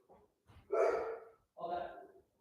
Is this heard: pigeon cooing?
no